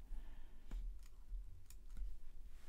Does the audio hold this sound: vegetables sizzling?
no